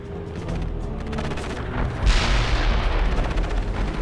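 Incoming artillery fire in the video game World in Conflict, a rumbling barrage of booms and blasts that grows heavier midway, with a deep explosive impact followed by sustained loud roar.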